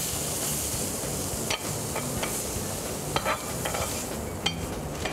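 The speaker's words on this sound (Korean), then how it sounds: "그럼 팬에 한번 볶아봐야겠죠?" Julienned carrots stir-fry in a lightly oiled pan, giving a steady close sizzle broken by scattered clicks and scrapes of stirring.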